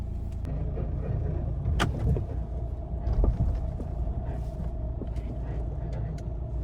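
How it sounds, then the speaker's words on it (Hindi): Mahindra car on the move with a grinding, rubbing noise, a continuous low rumble of road and engine with faint scraping and a few sharp knocks, no talking. "ऐसा लग रहा है जैसे कुछ घिस रहा है ना, ऐसी आवाज आ रही है कुछ घिसने की।"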